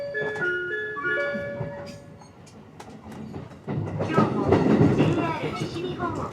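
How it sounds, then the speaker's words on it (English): Rumbling and clatter aboard a Shinkaisoku Special Rapid Train in Japan, steady and close, with a brief melodic chime early on before the noise swells louder. "And now we're riding the Shinkaisoku, which translates to Special Rapid Train."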